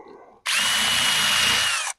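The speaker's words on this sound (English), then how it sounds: "As you push down, the drill bit comes out and drills the hole." A power drill with a self-centering Vix bit pre-drills a hole in a ready-to-assemble cabinet, whirring loud and steady for about a second and a half before stopping abruptly.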